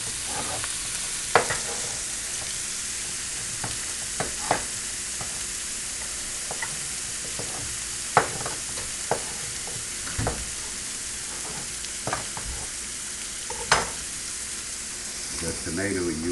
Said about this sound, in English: And now you saute the onion and the garlic until it's a little bit soft.